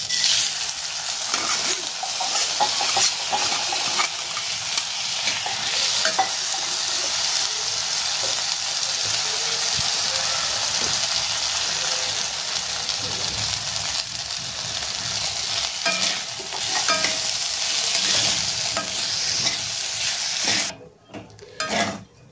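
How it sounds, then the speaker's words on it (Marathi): Dal roasts in ghee in a kadhai over a slow flame while being made into a sheera-style halwa, giving a steady, close sizzle with stirring and scraping throughout. "थोडंसं तूप टाकूया आणि आपल्याला ही डाळ जी आहे ती स्लो फ्लेमवर थोडीशी भाजून घेऊया आपण"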